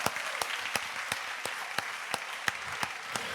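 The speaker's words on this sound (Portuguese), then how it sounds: "Uma salva de palmas." Applause from a church congregation, a dense wash of clapping with sharp individual claps standing out at a steady pace, moderately close and continuing without voices.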